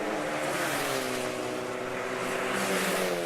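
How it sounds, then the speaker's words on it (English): Ford Fiesta race cars in the Scottish Fiesta Championship at the Knockhill circuit roar past in a loud, continuous engine drone whose pitch slides as they go by, with no talk. "So through shot goes the black car of Barry Farquharson."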